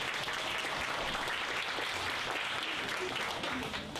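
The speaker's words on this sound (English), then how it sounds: "Big round of applause." An audience at a high school spring art show applauds, a steady, dense wash of many hands clapping together, fairly distant and sustained for several seconds without a break.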